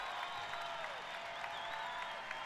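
A basketball crowd at a Radford vs Vermont game cheers and claps after a layup, a faint, distant and steady wash of applause and voices.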